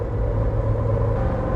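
A 1963 Chevrolet Corvette Stingray engine rumbles at steady idle, a loud, close, continuous low throb with no talking over it.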